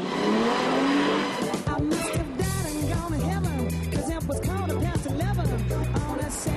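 A 300-horsepower sports car engine roars and revs steadily up and down close by on a race circuit, loud and continuous, with a voice talking over it.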